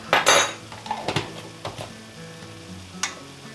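Minced garlic hits a hot skillet with a short burst of sizzle, followed by scattered clinks of a metal utensil against the pan and a fainter, fading fry.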